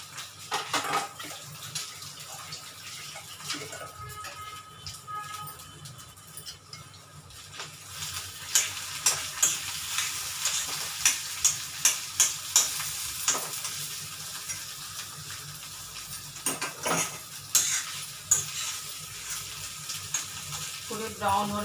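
Mashed potatoes being stirred and fried in ghee in a pan for aloo halwa, giving a steady low sizzle with repeated scraping strokes of a spoon against the pan, close and moderately loud.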